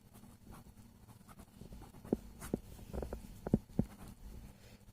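Pen scratching on paper while steps of a structural-analysis problem are written out, a quiet, close series of short strokes and taps, with a few sharper marks toward the end.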